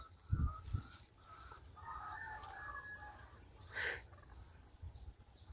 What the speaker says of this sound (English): here's one of my hens